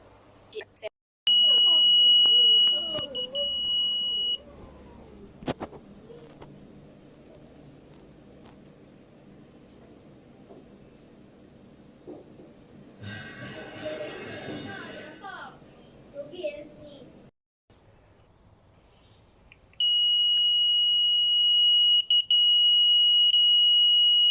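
E-Defense safety device buzzer sounding a loud, steady high-pitched electronic tone in two long stretches at the start and end, separated by a quieter passage with talking and handling noise.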